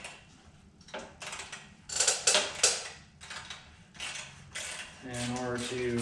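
Ratchet clicks in several close bursts as a bracket bolt is loosened on a John Deere 175 mower, with a short faint whir of mechanism near the end and no talk.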